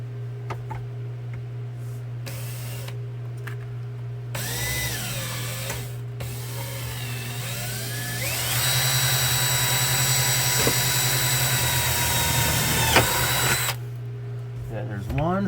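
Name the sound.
power drill drilling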